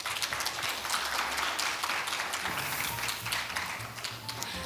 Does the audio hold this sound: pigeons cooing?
no